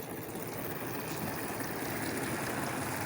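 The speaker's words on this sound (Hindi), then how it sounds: "ये देखिए इसका पानी जो है ना बाहर निकल रहा है।" Water drains out of a washing machine with a steady, continuous rushing and trickling hiss throughout, fairly quiet and unbroken, with no talking.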